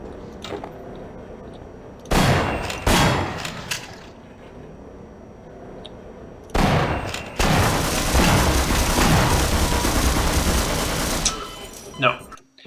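Shotgun fire in the Half-Life video game comes as several loud, sharp blasts spaced apart, followed by a long continuous burst of heavy firing and a final bang.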